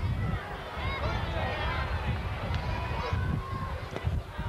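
A crowd at a rugby league match between Keighley and Leigh, a continuous roar of cheering and shouting that holds steady throughout, with voices mixed into the din.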